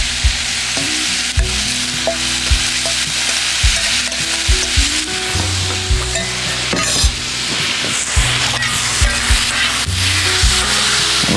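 Marinated steak chunks sizzle and fry on a flat griddle with steady crackle, while a utensil stirs and scrapes them in repeated bursts up close; no one speaks.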